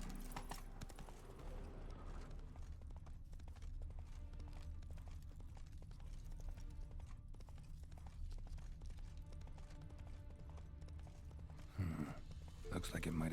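Hooves of a horse in the video game The Witcher 3 clip-clop in a steady, continuous rhythm throughout, with game voices and background audio underneath.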